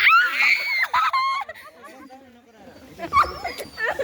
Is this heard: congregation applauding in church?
no